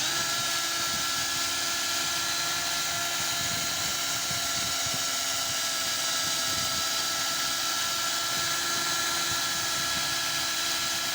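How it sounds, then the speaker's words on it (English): Handheld power drill fitted with a scrubbing brush head, rotated over a car headrest's upholstery, giving a steady continuous whir with a rough, brushing texture throughout, close and fairly loud. "just rotate the drill head over the area"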